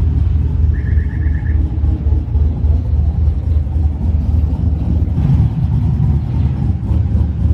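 A bagged single-cab pickup truck's engine runs with a loud, deep, steady rumble close by, its chopping idle throbbing continuously with a slight surge partway through.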